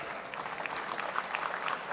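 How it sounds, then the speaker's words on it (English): Applause for a university vice chancellor walking to the podium at a graduation ceremony, a steady, fairly faint patter of many hands clapping from across a large hall. "please let's welcome him with a hand clap"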